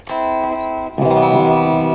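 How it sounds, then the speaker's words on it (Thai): Clean electric guitar through a TANK-G with reverb: one bright, ringing chord, then a second, fuller chord strummed about a second later, both sustaining with a soft wash of reverb. "อันนี้คลีนรีเวิร์บ"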